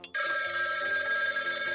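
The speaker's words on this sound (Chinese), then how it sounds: "佩奇来接电话了。" A pink Peppa Pig toy telephone rings, with a loud continuous electronic trill after a brief click, holding steady for nearly two seconds with no talk over it.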